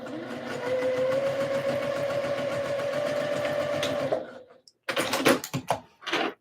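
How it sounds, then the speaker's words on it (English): A sewing machine stitching a skirt, a fast steady mechanical whir and needle chatter for about four seconds, then stopping, followed by brief clicks and handling noises. "sewing up this skirt so I can get this order shipped out and ready to go for tomorrow"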